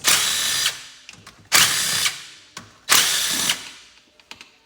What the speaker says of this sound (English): So take a 8mm socket here, pull these 5 bolts